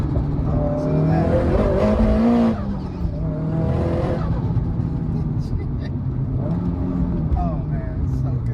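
Nissan Silvia Spec R S15 drift car engine revving loudly nearby, a steady rasping drone with a swelling rev, mixed with people talking over it throughout.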